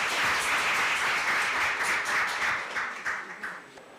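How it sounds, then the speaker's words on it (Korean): An audience at a National Assembly forum on disability accessibility welcomes lawmaker Kim Ye-ji with dense, lively indoor applause that holds strong, then thins into scattered claps and fades out. "박수로 환영해 주시기 바랍니다"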